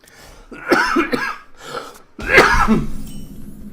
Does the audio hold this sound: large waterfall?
no